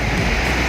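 Surf rolling onto Radhanagar Beach at Havelock in the Andamans, a loud, steady wash of breaking waves filling the moment without pause.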